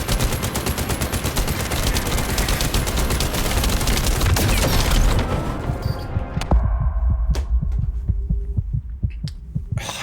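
Gunfire and explosive bursts from The First Descendant's Ultimate Ajax gameplay: dense, continuous rapid shooting for several seconds, then sparser individual shots and thumps in a quieter stretch.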